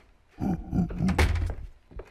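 A door opening in the horror game Minds Eyes, heard as a series of heavy wooden thunks and a creaking slide, close and fairly loud.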